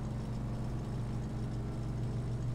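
A truck engine in the Farming Simulator 17 video game drones at a steady, continuous idle-like rumble, loud and close, with strong low harmonics and no variation in rhythm across the whole stretch.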